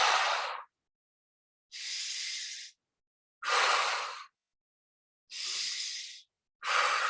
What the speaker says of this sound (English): take 3 deep inhales and exhales out